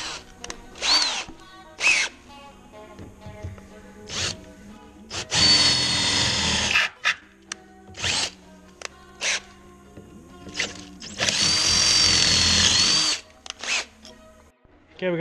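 A power drill with a worn chuck cuts a hole through a plastic truck mirror in a series of short bursts and two longer whining runs, with handling clicks and pauses between.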